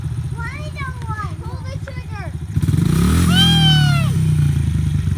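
A motorcycle engine idles with a steady throb, then revs up into a louder, rising whine that holds before easing. Voices talk over the engine throughout.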